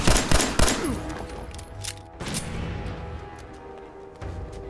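Rapid bursts of enemy gunfire in Fallout 4, several loud close shots in the first second followed by scattered further reports and lingering game ambience.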